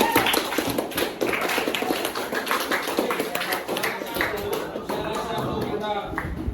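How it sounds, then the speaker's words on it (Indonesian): Students in a classroom clapping hands together, rapid overlapping claps forming a lively burst of applause with voices mixed in underneath. "Oke, tepuk tangan."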